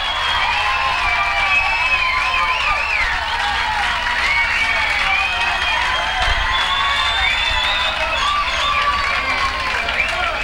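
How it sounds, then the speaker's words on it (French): A party crowd in East Angus in 1989 applauds a band with sustained, dense clapping and cheering that stays loud and steady throughout, with shouting voices mixed in. "Faites un applaudissement."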